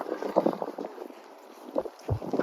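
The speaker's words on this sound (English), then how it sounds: "a cold wind in the face" Cold winter wind gusts straight into the microphone outdoors in Veliky Novgorod, a steady rushing roar with a few low, thumping buffets near the end.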